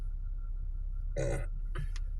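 A single short human burp, close and fairly loud, followed by a brief throaty after-sound, over a steady low background hum with no talking.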